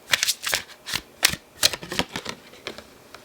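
Tarot cards being shuffled by hand in a quick series of crisp riffling bursts over about three seconds, close up and clear with no voices.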